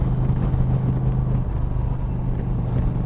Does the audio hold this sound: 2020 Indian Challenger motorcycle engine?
yes